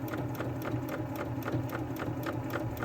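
A sewing machine stitches the hem of a heating pad with a fast, even mechanical chatter. It runs close and continuous, with no talking over it.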